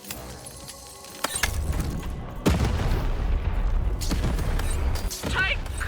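In the video game Lost in Random, a cannon fires with several loud booming blasts that set off sharp mechanical clatter, followed by sustained rumbling noise.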